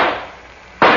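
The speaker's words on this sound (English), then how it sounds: "Start shooting" Gunfire in an old-time radio murder drama: a sharp broadband burst opens, the sound fades into a quiet gap, then a second loud crack hits near the end, two close shots with no talk.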